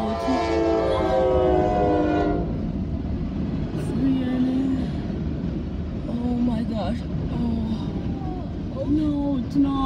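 A Norfolk Southern intermodal freight train with a Conrail locomotive leading passes at night, its horn blasting loudly at first over a steady rumble of rolling cars and clattering wheels, and voices talk nearby.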